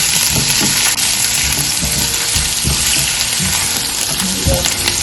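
Onions sautéing in two tablespoons of oil in a pan for Kathiawari cholay, a loud continuous sizzle with occasional stirring scrapes close up.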